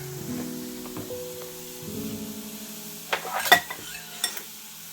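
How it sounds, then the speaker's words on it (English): Softening apples get stirred in a pan, a soft sizzle under a low hum, then a few sharp scrapes and clinks of a utensil against the pan toward the end, with no one speaking. "The apple is softening. Just letting it do its thing, give it a little stir."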